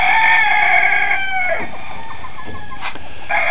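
A rooster crows loudly nearby in one long, strained call that trails off, followed by a shorter crowing burst near the end.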